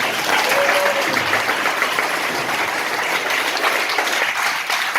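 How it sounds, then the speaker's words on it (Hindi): A church congregation at a Christian worship service claps for the worship music team, a sustained, loud round of many hands applauding for several seconds. "इनके लिए भी अच्छी ताली बजा दीजिए।"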